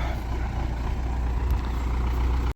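An MTZ 80 tractor rumbles nearby as it moves and is parked on a farm, a loud steady low engine drone that cuts off abruptly at the end.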